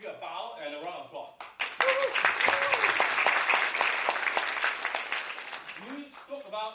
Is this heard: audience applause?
yes